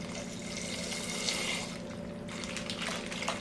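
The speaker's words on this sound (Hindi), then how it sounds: "दूध को ऐड कर देंगे हम।" Half a litre of full-fat milk poured into a pot on the stove, a steady continuous liquid pour and splash heard close up with no talking.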